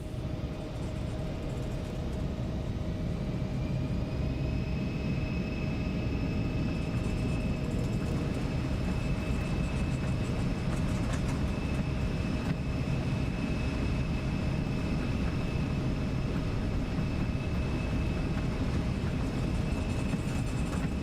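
Embraer E175 jet in X-Plane 12 spooling up for takeoff, a steady loud engine roar with a sustained whine and rising tonal hum, continuous and close throughout, no talking.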